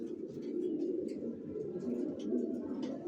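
Racing pigeons coo steadily inside a loft, a continuous low murmur of several birds with overlapping calls and faint higher chirps, moderately close.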